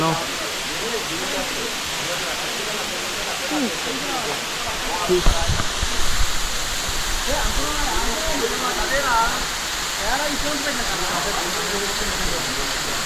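Katki waterfall in Araku, water crashing down with force in a steady, dense roar that fills the whole clip, with a brief louder surge midway.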